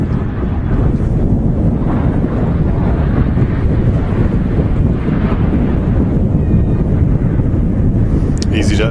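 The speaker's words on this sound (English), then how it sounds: "EasyJet just touching down" An EasyJet airliner touches down at Manchester Airport: a loud, continuous roar of engines and rushing air, heavily buffeted by wind noise on the microphone, steady throughout with no voices.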